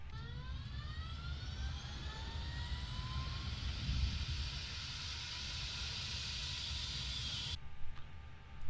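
A-6 Intruder jet engine spooling up during a right-engine start in Microsoft Flight Simulator, a steady rising turbine whine with climbing tones over a constant low roar that cuts off sharply near the end.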